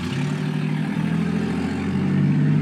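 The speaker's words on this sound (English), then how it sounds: "Now that's an exhaust leak, I've heard one." A 1972 Buick GS engine with an exhaust leak runs steadily nearby with a low, rough, puttering exhaust rumble, rising slightly in volume toward the end.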